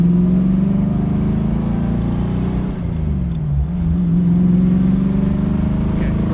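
A 1965 Sunbeam Tiger sports car engine drones loudly and steadily on a farm road, the pitch dipping briefly mid-way as it shifts gears, then climbing again.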